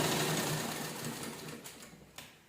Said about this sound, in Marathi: चला स्टिच करायला घेऊया.